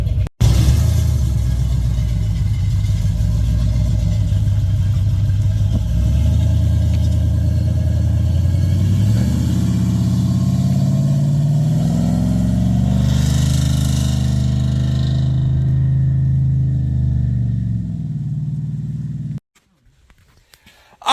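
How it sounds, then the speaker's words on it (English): A supercharged LSA-powered 2006 GMC 1500 Z71 pickup makes loud, close drive-by passes, its V8 engine rumbling and revving steadily, the pitch rising and falling as it accelerates past before cutting off near the end. "now we're just gonna do a couple drive-bys, then take it down the road"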